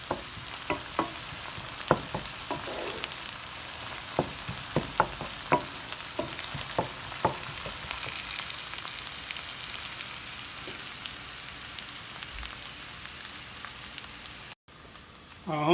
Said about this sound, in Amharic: ሽንኩርቱ ዝንጅብሉ በጣም እየተቁላላ ነው በዘይት።